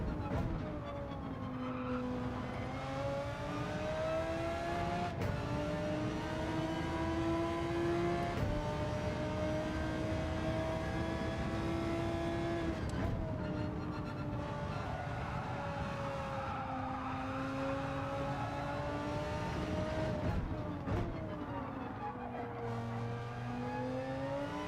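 A race car engine in Gran Turismo 7 drones and climbs through the revs, shifting gears repeatedly with a steady, sustained whine across the whole stretch.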